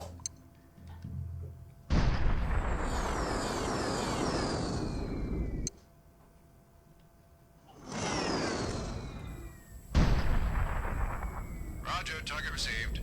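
Huge bomb explosions from an airstrike in the video game Mercenaries roar in long, loud rumbling waves, separated by brief quieter gaps, with a radio voice speaking between the blasts.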